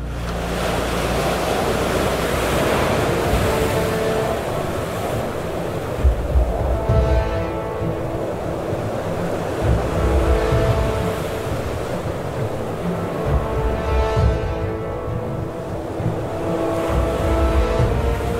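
Stormy sea surf crashes continuously against the coast during high spring tides, a loud roaring wash with repeated wave surges and gusting wind noise, with no voices.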